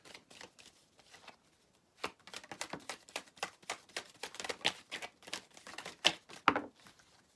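Tarot cards are shuffled and laid down at a table, giving a steady run of soft, quick flicks and taps, close but quiet, growing busier toward the end.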